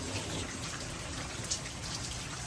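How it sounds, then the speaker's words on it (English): Steady rain falls in a dense, even hiss of patter and drips, close and continuous with no voices. "It is raining."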